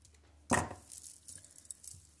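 Jewelry chain for a heart necklace gets a single sharp snip up close, followed by faint small handling clicks in a quiet room.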